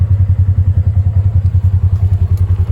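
Polaris RZR XP 1000 engine idling fully warmed up, a loud, close, steady low thumping pulse with a fast even rhythm and slight mechanical clatter, no voices.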